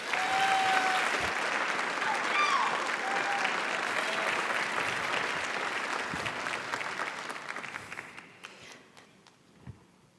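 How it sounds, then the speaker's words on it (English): Audience applause at a TEDxBerkeley talk, a sustained burst of many hands clapping that gradually fades out over about ten seconds. "Please give a round of applause for Dr. Clancy Wilmott."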